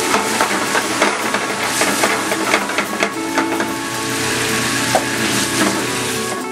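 Maple syrup and sherry sizzle loudly in a hot pan with bacon, a dense continuous hiss and crackle close by, with scattered pops.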